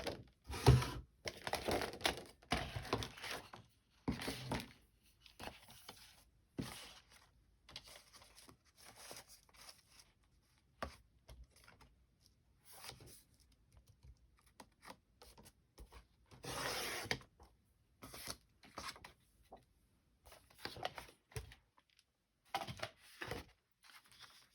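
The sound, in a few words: cutting paper for a spring journal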